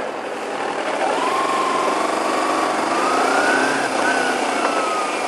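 Kawasaki ZZR 1200 motorcycle engine accelerating away on a Gold Coast road, a steady loud whine climbing in pitch through the gears with a brief dip between shifts, heard over continuous wind and road noise.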